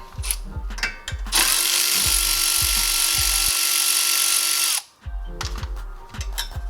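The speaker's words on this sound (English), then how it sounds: "So the first thing I'm gonna undo is the brake line." A power tool loosening a brake line fitting on a Honda Element, a loud sustained whine for several seconds framed by rhythmic mechanical clatter and thumps, close and dominant.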